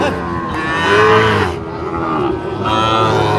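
A pied cow at a cattle market in Raniganj, Dinajpur, moos loudly and close by, a couple of long, drawn-out lowing calls rising and falling.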